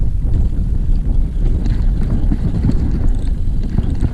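Strong wind roars steadily over an inflatable boat trolling at sea off Malaysia, a loud continuous low buffeting rush across the mic with no pauses and no talk.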